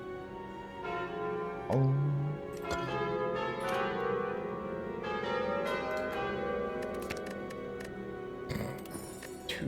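The Calling Bell relic in the video game Slay the Spire tolls with deep, resonant church-bell strikes that ring and sustain over a swelling musical backdrop, with a brief spoken exclamation partway through.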